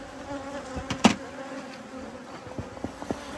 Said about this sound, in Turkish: Arı nüfusu oldukça kalabalık